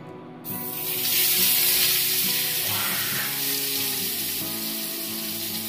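Fish, ground with garlic, cumin, mustard, green chilli and onion, sizzles and crackles loudly in a hot pan. The hiss swells after a quiet start and stays steady, with occasional stirring noises.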